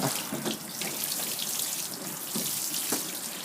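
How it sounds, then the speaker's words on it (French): Water pouring steadily onto a seedling tray of potting soil sown with lettuce, a continuous close splashing trickle with small soft spatters. "On va arroser en fait la terrine, donc comme ceci."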